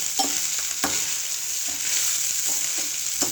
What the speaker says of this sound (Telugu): ఇప్పుడు కలుపుకుందాము బాగా.